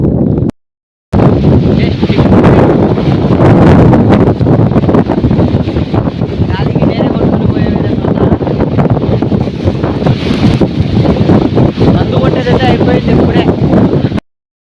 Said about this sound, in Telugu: ఫుల్ గాలి ఫుల్ వర్షం వచ్చేసింది